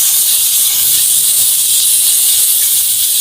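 Mussels sautéing in butter over an outdoor cooking fire, giving off a loud, steady, bright sizzle that hisses without pause and with no talk over it.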